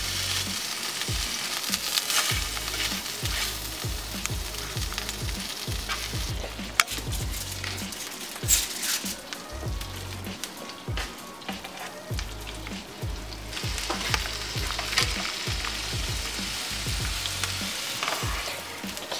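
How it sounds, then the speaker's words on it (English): Butter melting and sizzling in a pan while making cheeseburgers: a steady, close crackling hiss runs throughout, with soft low knocks from stirring scattered through it and no talking. "So we got the butter cooking."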